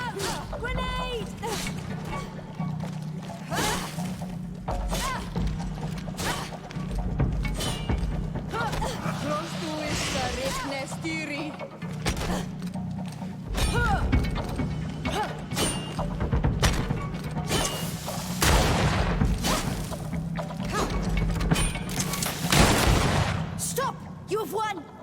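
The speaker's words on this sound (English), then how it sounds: "Watch out! Grenade!" Grenade exploding among scattered thuds and impacts during a combat scene in Greedfall, with voices talking over much of the fighting.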